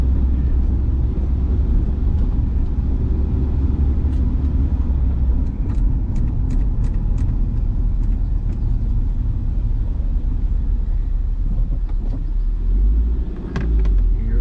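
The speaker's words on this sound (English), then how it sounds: "We're just going around the block, people. Second gear, clutch is working." A rebuilt Honda CR-V drives in second gear, its engine and road noise forming a steady low rumble from inside the cabin, with a few faint clicks and ticks along the way.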